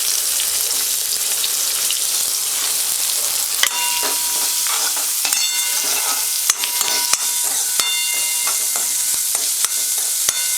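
Chopped onion and green chilli sizzle steadily in a hot pan, a bright, dense hiss broken by scattered clicks and scrapes from stirring, with no one speaking.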